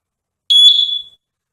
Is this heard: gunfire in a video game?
no